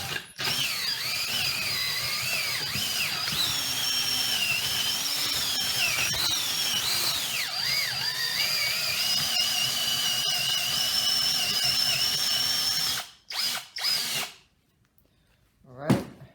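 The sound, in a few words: power drill bit smoothing a hole in wood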